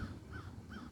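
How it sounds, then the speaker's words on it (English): Crows cawing in the background, two drawn-out caws spaced about half a second apart, fairly faint over a low ambient rumble. "I don't know if you hear the crows in the background"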